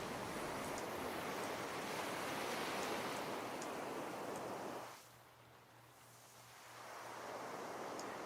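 A sampled ocean-wave sound effect previewed in the Unify plugin forms a soft, continuous surf wash that dips almost to silence for about two seconds, then swells back in.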